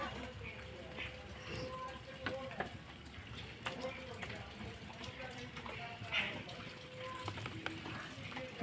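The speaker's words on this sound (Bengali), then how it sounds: "তেলটা গরম হয়ে গেছে" Mustard oil heating in a pan over a lit stove before potatoes go in, a faint continuous sizzle and crackle with soft scattered pops, close but quiet.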